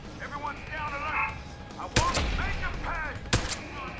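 Automated turret gunfire in Deus Ex: Human Revolution, two loud sharp shots several seconds apart, with muffled voices and chirping game sounds underneath.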